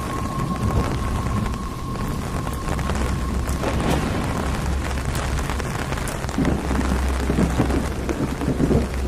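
Steady heavy rain pours throughout with rumbling thunder rolling underneath, a dense continuous storm wash with no voices.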